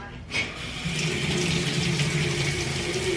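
Water gushes steadily from a tap into a sink, a loud continuous rushing and filling sound that starts after a short sharp knock at the beginning, with no voices.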